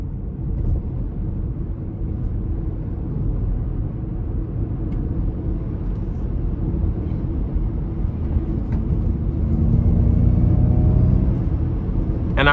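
Interior of a 2021 Ford Mustang Mach-E driving in Unbridled mode, a steady low rumbling hum with road noise that swells slightly louder toward the end, continuous and without talk.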